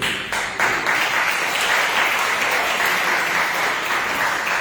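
A church congregation applauding during a Bible lesson on 1 Peter, continuous dense clapping throughout, loud and even with no talk over it.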